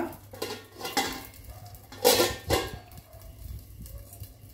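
Majjige dosa batter being spread and cooked on a hot pan, a few soft scraping strokes and faint sizzling in an otherwise quiet, close setting.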